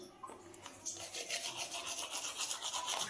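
Toothbrush scrubbing teeth, close and quiet, with a brisk rhythmic back-and-forth rasping that starts after a brief pause and continues steadily.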